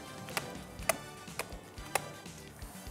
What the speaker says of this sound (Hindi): just lift and drop it so that जो केक बैटर है वो इवनली फैल जाए